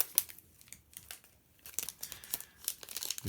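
A Dragon Ball Super Card Game booster pack torn open, with close crinkling foil and ripping bursts, fairly quiet and alone.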